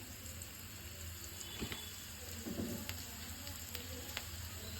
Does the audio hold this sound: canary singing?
no